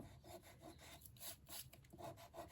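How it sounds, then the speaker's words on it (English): Sand eraser rubbing stray adhesive off a paper envelope, a faint close scratchy scrubbing in quick repeated strokes, with no voices. "I've got a little sand eraser here which can"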